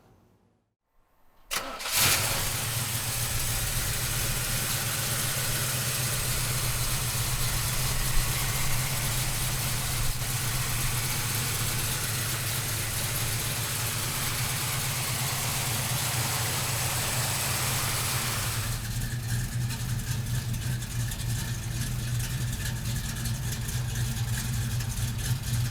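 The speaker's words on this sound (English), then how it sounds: "we'll fire the big block up now" A 1966 Chevrolet Chevelle big block V8 cranks and catches after a short silence, then settles into a loud, steady, rumbling idle that holds for over twenty seconds with no one talking.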